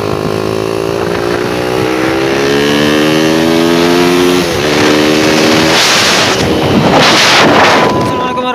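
A motorcycle fitted with a PWK carburetor climbs a hill in fourth gear, its engine droning loud and steady with a rising pitch and wind buffeting the microphone.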